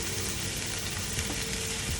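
Brown sauce stirred into fried rice in a hot pan for Thai curry basil fried rice, a continuous dense sizzle with faint stirring scrapes, close and steady, no talk.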